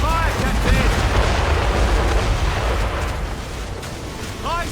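Ship cannon fire in Assassin's Creed Rogue, a heavy rumbling boom rolling out and slowly fading over wind and sea noise, with shouting crew voices mixed in.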